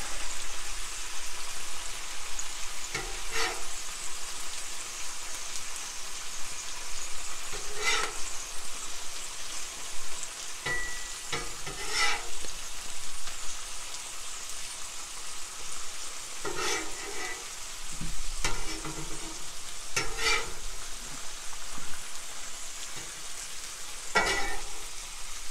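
Korean street toast sizzles steadily on a black stone griddle set on low heat, with a constant frying hiss broken by a few soft scrapes and clicks.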